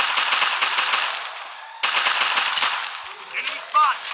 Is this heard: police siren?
no